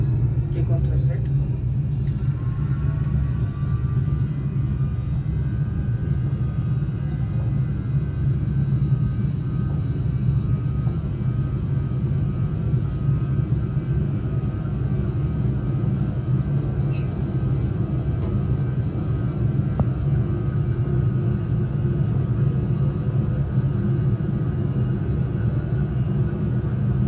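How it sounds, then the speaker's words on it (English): Airliner engines run at takeoff thrust in a full flight simulator, a loud, steady low rumble with a thin whine above it, while voices talk over the engine noise. "Takeoff thrust set."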